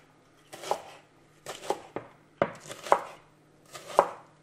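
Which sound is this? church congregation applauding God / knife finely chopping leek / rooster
knife finely chopping leek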